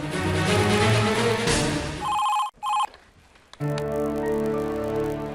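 A telephone rings with a bright electronic tone, two short bursts over steady background music, which drops out around the rings before resuming.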